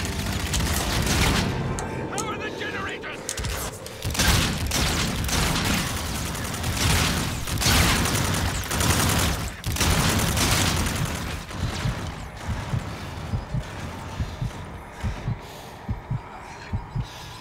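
Gunfire and heavy impacts from the video game Call of Duty: Infinite Warfare, thudding bursts and booms repeating irregularly under a loud, dense mix, with a voice talking at times.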